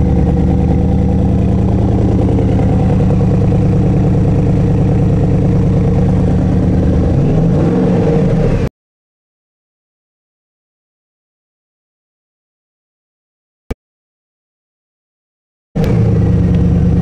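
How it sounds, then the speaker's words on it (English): A Porsche Cayenne Turbo S engine rumbles loudly and steadily with a deep tone for several seconds, then cuts to silence, with a brief return at the end. "this is the most powerful Porsche Cayenne Turbo S"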